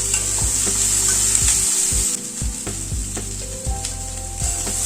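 Ginger paste stirred and fried in a pan while cooking a pigeon pea dal, with a continuous close sizzle and a series of regular spatula scrapes and knocks against the pan.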